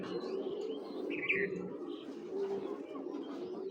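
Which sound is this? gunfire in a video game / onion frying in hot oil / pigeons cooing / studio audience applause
pigeons cooing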